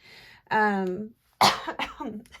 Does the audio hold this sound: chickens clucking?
no